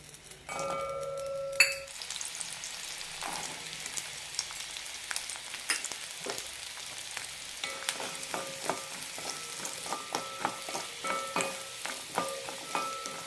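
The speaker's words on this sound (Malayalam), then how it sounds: "നന്നായി ചുവന്ന് കിട്ടുന്നവരെ വഴറ്റിയെടുക്കണം" Garlic and shallots sizzle steadily in a teaspoon of oil in a pan for garlic chutney, with a continuous crackle and occasional clinks of a stirring spoon close by. No one speaks.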